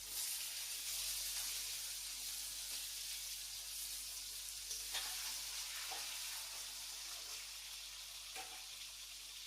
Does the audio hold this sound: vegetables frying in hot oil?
yes